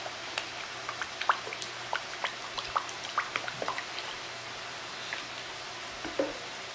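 Spices and ingredients for homemade beef chili being stirred together in a crock pot, with soft scraping, clicking and wet stirring sounds in a loose irregular rhythm, close by and fairly quiet, with no talking.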